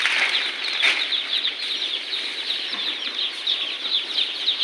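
A dense flock of poultry chicks in a brooding shed on a farm, with constant overlapping chirping and wing flutters filling the space, close and steady throughout.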